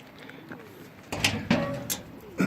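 Pigeons coo in a loft, with soft, low murmuring calls and a few sharper bursts and knocks in the second half, close by and without talk.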